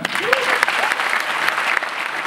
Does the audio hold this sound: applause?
yes